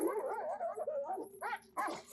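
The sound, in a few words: dog whimpering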